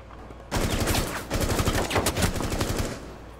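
Rapid automatic gunfire in the video game Rainbow Six Siege, a dense loud burst of shots lasting about three seconds after a brief quiet start, with no talk.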